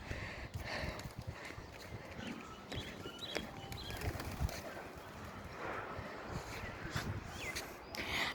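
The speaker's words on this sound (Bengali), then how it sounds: "দেখো দেখো কতগুলা কবুতর" A flock of pigeons on a rooftop under a cloudy sky gives soft coos and rustling amid steady outdoor background noise, with no voices.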